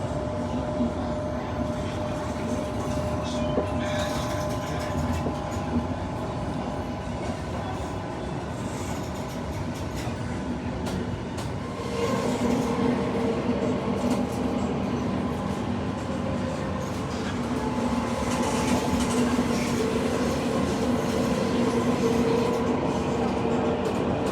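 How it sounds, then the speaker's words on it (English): An older Rome Metro Line B Ansaldo train runs between Porta San Paolo and Magliana, a sustained rumble with steady tonal motor hum that grows louder midway as the car rattles along. "Here you can see one of the older Metro Line B Ansaldo trains once again between Porta San Paolo and Neumagliana."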